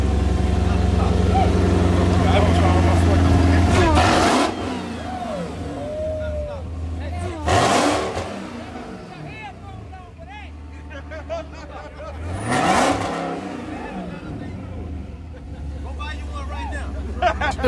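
A muscle car running E85 race fuel revs loudly up close, its engine roaring in repeated surges with a steady low rumble between bursts while a crowd chatters in the background.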